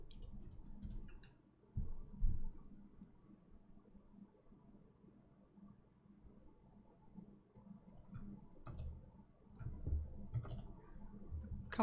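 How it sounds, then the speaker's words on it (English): Computer keyboard typing in a cozy co-working session: faint, sparse clicks of keys in small scattered bursts over a quiet low room hum, with no talking. "It's time for typing sounds."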